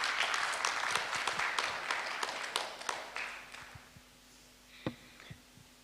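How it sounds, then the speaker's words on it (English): Applause for panelists at a conference dialogue event: crisp, close claps from a modest crowd that start busy, then thin out into scattered individual claps with a steady low hum underneath. "Please give our panelists a round of applause."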